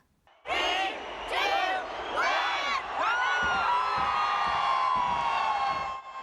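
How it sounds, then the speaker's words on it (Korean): A crowd gathered around Auckland's Sky Tower in New Zealand cheers at the 2019 New Year fireworks, with loud close whoops and rising shouts merging into a sustained roar, while dull booms thud beneath. "사람들의 환호성과 함께 불꽃이 밤하늘을 환하게 밝힙니다"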